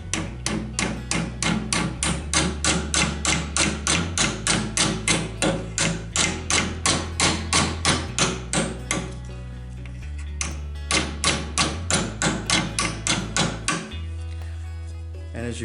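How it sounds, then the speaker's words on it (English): A wooden baseball-bat mallet taps repeatedly on a steel iris petal clamped in a vise, giving a steady run of loud, close, ringing knocks in quick succession with a brief pause partway through. "I'm going to carefully go over the side and just tap it down with the baseball bat mallet"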